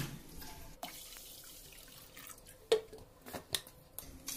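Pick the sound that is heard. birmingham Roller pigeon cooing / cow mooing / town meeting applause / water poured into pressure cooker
water poured into pressure cooker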